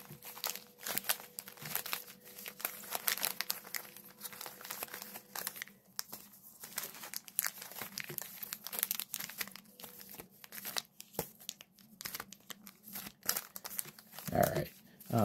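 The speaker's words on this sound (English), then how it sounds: "Give them a little bit of a shuffle." Vintage 2008 Yu-Gi-Oh booster packs from the Expansion Pack 2 set are shuffled by hand, their foil wrappers giving off close, uneven crinkling and rustling bursts throughout.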